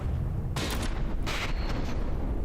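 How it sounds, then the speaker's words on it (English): Mortar shells fired and landing in a From the Depths naval battle, two broad bursts of distant booming impacts about a second apart over a steady low rumble. "Mortars actually reached their mark here."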